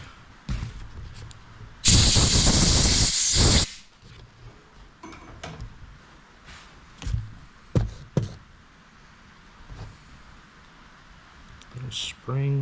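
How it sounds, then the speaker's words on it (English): Air gun blasting compressed air into the switch block of a 1998 Honda VFR800Fi motorcycle, one loud hissing burst of about two seconds, followed by scattered light taps and handling noises. "Just blow it out with the air gun."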